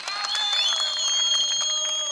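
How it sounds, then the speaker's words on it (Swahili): An audience at a Tanzanian public gathering applauds its religious leaders: loud, sustained clapping and crowd noise mixed with high, drawn-out cheering tones that hold steady throughout. "Naomba tuwapigie makofi viongozi wa dini kwa mambo mazuri wanayotufanyia katika nchi yetu."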